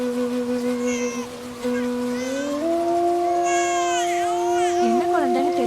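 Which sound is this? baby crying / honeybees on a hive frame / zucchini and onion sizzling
baby crying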